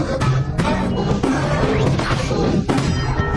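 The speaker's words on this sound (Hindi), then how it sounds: "पूरी ताकत से गॉडजिला के चेहरे पर लोहे का मुक्का मारता है। धड़ाम।" Heavy smashing crash of a giant mechanical iron fist punching a monster in the face, in a Godzilla versus Kong monster fight; dense continuous impacts and rumbling booms fill the whole stretch loudly, with sharp hits recurring.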